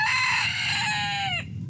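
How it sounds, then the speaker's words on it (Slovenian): A rooster gives one loud, close crow, a long rising and held call that falls off sharply at the end, heard outdoors with no talking. "Pričaka nas le Petelin"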